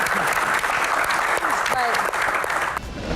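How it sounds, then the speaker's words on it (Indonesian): An audience claps steadily for a speaker at a public Q&A event, dense continuous applause close by with voices mixed in beneath it. "Tepuk tangan untuk Pak Muhadjir."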